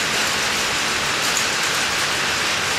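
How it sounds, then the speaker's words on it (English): Heavy rain pours down in a dense, constant hiss with no pauses, close and loud. "It's raining."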